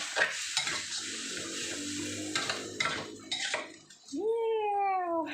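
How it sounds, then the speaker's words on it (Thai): Glass noodles are stir-fried in a pan with minced pork and pounded chili, with a spatula stirring and scraping amid a steady sizzle. A voice talks over it, and a sharp squeaky scrape follows near the end. "ก็เอามาผัดใส่หมูสับใส่พริกโขก"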